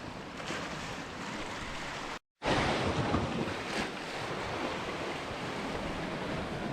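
North Sea waves breaking against a rocky coast, a continuous broad roar of surf mixed with wind buffeting, with a very short dropout partway through.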